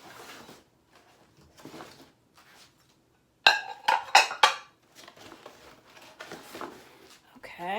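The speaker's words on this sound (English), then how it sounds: "Let me add the rest of these dishes." Dishes clink and clatter as they are set out on a table for a fall tablescape, a burst of several sharp ceramic and glass knocks in quick succession, close by, framed by quieter handling and soft background sound.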